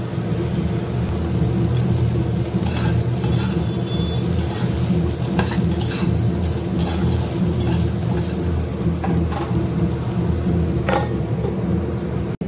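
Onion, cashews and raisins sizzle and crackle in a hot pan while being stirred, a loud and continuous frying hiss with occasional scraping clatters of the spoon, no talk.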